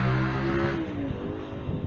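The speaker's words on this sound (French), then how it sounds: "désolé pour le bruit des voitures." Steady road traffic rumbles nearby, with a vehicle engine droning past and fading into continuous motor noise.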